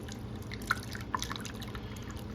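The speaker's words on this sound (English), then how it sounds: "So there's a mixture of wax and honey coming through here." Melted beeswax and honey pour through an elbow fitting, producing soft, close drips and a light liquid trickle, with a couple of distinct drops standing out over a low steady background.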